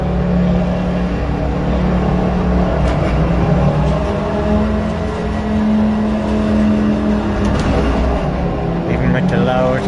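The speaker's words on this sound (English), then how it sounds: "Even with the loud engine." A race car engine drones steadily in Assetto Corsa, a loud sustained hum with shifting tones throughout, while a person talks over it.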